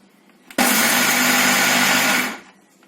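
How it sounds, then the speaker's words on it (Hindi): A mixer grinder whirs loudly as it grinds cashews and dry fruits into powder, one steady high-speed burst of about two seconds that starts abruptly and winds down at the end. "आप 15-15 सेकेंड के ब्रेक्स दे करके इनको ग्राइंड करिए।"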